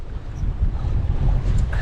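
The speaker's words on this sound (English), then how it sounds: "It's really quite windy." Strong wind at Coral Bay buffets the microphone in a steady, heavy low rumble with gusts throughout, and a faint hiss of water in the background.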